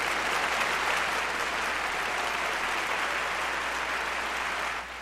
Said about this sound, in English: let me get the applause going here